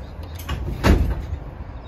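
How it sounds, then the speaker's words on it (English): A pneumatic door on a Leyland Atlantean bus bangs open with a single thud amid a hiss of air, over a steady low rumble of background noise. "Door did slam open though."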